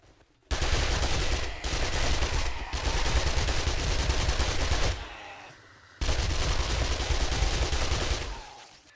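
Submachine gun fire in the zombie survival game 7 Days To Die, two long sustained automatic bursts close and loud, separated by a short pause, with brief breaks in the firing.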